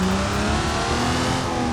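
A 2.8-litre diesel engine in an Ibishu Diadem, a car in the driving game BeamNG, holds a steady rev with a sustained droning tone and no talk.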